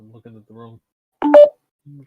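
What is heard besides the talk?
mobile phone sound while being set to silent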